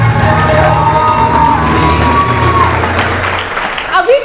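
An indoor audience at a talk about memorising a Vestige business plan bursts into loud, sustained clapping and cheering, with voices mixed into the crowd noise and the applause thinning toward the end.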